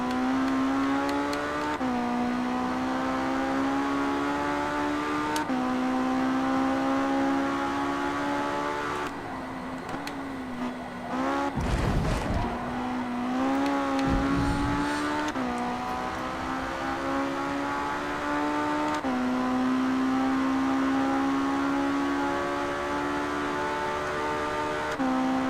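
Race car engines in a sim racing game, one engine droning continuously at high revs with shifts and a short dip in pitch partway through, with a few brief thumps and no talking.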